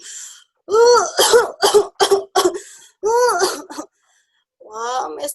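A storyteller voices a character named Mesta coughing after eating crackers, producing a series of close, rough, throaty cough bursts in quick clusters, with short pauses between them.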